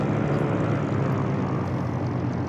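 The Cirrus SR22's propeller engine drones steadily from outside the aircraft in the X-Plane 12 flight simulator, a loud, even hum with no voices over it.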